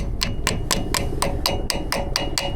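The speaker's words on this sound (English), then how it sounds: "Then you bend the cotter pin up" Hammer blows bend a cotter pin on a seized UFP/Dexter disc brake of a boat trailer, about ten sharp metallic strikes in quick, even rhythm, close and alone.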